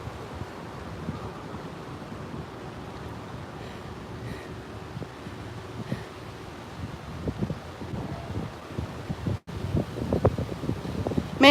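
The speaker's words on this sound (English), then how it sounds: "that wind feels so good" Wind gusting outdoors on a walk through downtown Waco, Texas, a soft steady rush with buffeting on the microphone that grows rougher and louder near the end.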